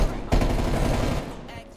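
Rapid gunfire bursts in Black Ops Cold War, a loud close fusillade of shots lasting about a second before tailing off, no talking.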